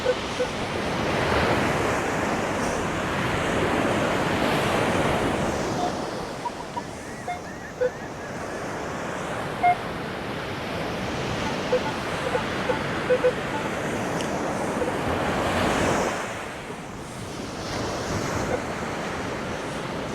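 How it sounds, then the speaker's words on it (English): Ocean waves rolling up the beach at Nags Head, a loud sustained surf wash with swells at the start and again near the end, plus wind buffeting the microphone and faint scattered clicks. "the waves come up here where I'm at now"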